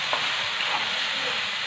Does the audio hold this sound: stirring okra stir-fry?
yes